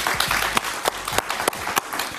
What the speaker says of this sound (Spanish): Un aplauso para Alejandro Ordóñez.